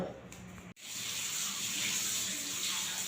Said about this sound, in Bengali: এখন কিছু বাসন ছিল ওই জল দিয়ে ধুয়ে নিলাম